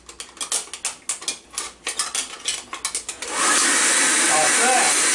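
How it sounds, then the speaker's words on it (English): A hair dryer switches on and blows a steady, loud rush of air into a frozen refrigerator water dispenser spout, following a run of short rubbing and clattering noises. "turn on your hair dryer"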